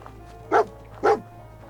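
Dogmeat, the canine companion in Fallout 4, gives two sharp barks about half a second apart, close and clear over a low game-world hum with no talking.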